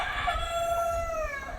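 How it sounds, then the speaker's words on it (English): A rooster crows at a quirky beach campsite in Morocco where chickens roam everywhere, one drawn-out, wavering call heard from a moderate distance over a low background rumble. "There's chickens everywhere."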